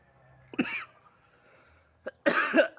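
Two coughs close by in a quiet space, a short one first and then a heavier, longer one about two seconds later.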